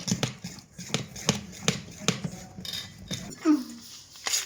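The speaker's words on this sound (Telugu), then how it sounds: "స్పూన్ ఉప్పు వేసుకున్నామండి బాగా కలుపుకోవాలి" A metal spoon clinks and scrapes against a vessel as salt is stirred into multigrain idli batter, a close, regular run of bright knocks with a brief wet swirl near the end.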